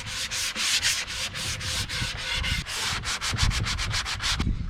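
A sponge sander rubs back and forth over painted wood on a wooden boat being restored, making close, loud, rhythmic scratchy strokes that speed up toward the end.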